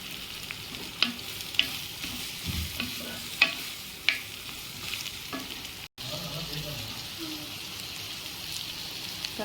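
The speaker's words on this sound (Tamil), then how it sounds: "இப்போ வெங்காயம் நல்லா வணங்கிட்டுருக்குங்க." Small onions and green chillies fry in a pan, a steady soft sizzle with occasional crackles and stirring scrapes, close and quiet, with no talk.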